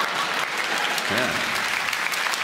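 Audience applause from a live stand-up comedy crowd, a dense steady patter of many hands clapping throughout, with a voice briefly heard over it midway.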